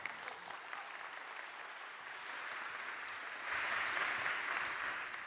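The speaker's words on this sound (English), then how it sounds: "having been granted a round of applause without having done anything" Round of applause from a conference audience at a circular-economy forum session, heard as a faint, distant wash of many hands clapping that swells a little louder near the end.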